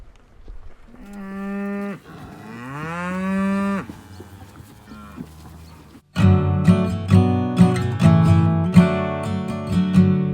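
Cattle on a pasture ranch moo repeatedly, with long drawn-out bellows at first, then a louder overlapping chorus of several cows calling close by in rapid succession.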